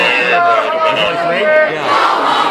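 A loud crowd of campus protesters shouts and chants in overlapping voices, with several distinct yells rising and falling close by.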